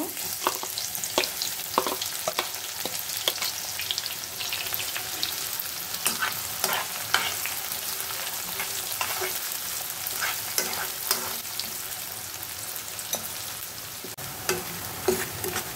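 Sliced onions fry in plenty of hot oil in a kadai, crackling and sizzling steadily up close while a spatula stirs and scrapes in repeated strokes, with no talking.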